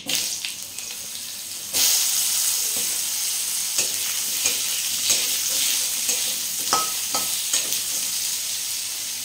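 Green banana and potato pieces hit oil tempered with white cumin, a sudden loud burst of sizzling that settles into a steady close hiss, broken by scraping stirs of a spatula.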